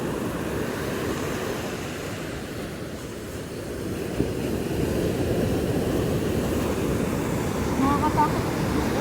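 Water waves wash close by in a steady rumbling roar, with wind buffeting the microphone throughout and a voice speaking faintly beneath it.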